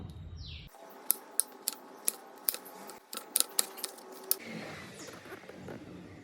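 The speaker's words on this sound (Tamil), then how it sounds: "இப்போ தக்காளியை பொடி பொடியாக நறுக்கணும்." Tomatoes are chopped finely on a board with a kitchen knife, about a dozen sharp, irregular cutting taps close by, followed by soft handling noise.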